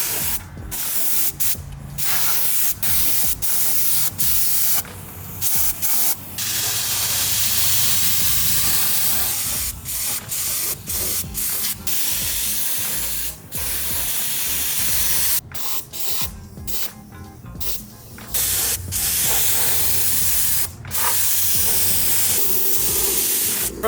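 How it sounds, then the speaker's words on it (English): Spray gun painting bare metal on a Ford F-100 truck, a loud continuous hiss of spraying broken by frequent short pauses and trigger releases, close and sustained throughout. "Let's get to spraying."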